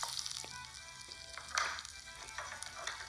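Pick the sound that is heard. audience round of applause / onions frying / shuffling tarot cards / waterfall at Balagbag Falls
onions frying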